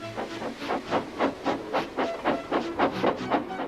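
A cartoon steam locomotive huffs and blows off steam in a steady run of rhythmic hissing chuffs, about eleven close bursts over a few seconds, loud and alone with no voices.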